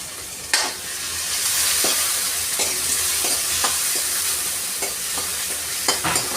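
Onion and tomato sauté in hot oil for palak paneer, giving a steady close sizzle with occasional light spoon taps and stirring clicks, and no talking.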